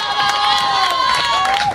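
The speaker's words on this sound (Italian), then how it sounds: "un applauso ancora." A live crowd at a 2011 outdoor band concert in Arquà cheers and shouts close by, with a sustained, bright roar and some clapping underneath.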